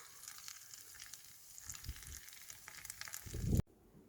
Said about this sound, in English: it is still sizzling